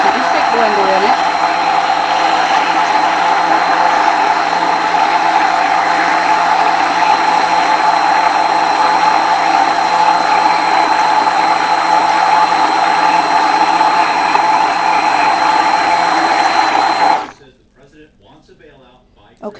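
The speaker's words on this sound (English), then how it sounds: "to keep the stick blender in it." A stick blender running steadily in a batch of soap made from oil and water, a loud continuous whirring drone for about seventeen seconds before it switches off into quiet.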